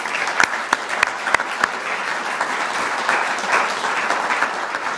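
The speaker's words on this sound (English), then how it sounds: "Let's just give them another round of applause" Sustained applause from an evening presentation audience, a steady crackling bed of many hands with a few sharp nearby claps standing out early on, loud and continuous without talking.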